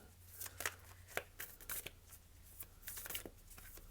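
Tarot cards are shuffled and drawn for a reading, with close, crisp riffles and slaps coming in quick uneven bursts over a faint low hum.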